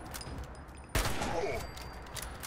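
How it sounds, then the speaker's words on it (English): Enemy gunfire from rooftops in Fallout 76, one sharp loud shot cracking out mid-clip and trailing off, with a few faint distant pops around it. "They're on the roofs and they're taking shots at me."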